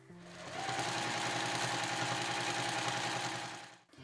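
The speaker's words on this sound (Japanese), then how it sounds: "そしたら先ほどと同じように際を縫います" Sewing machine stitching along the folded edge of a fabric shoulder strap, a steady rapid mechanical chatter running for about three seconds, close and alone, starting and stopping cleanly.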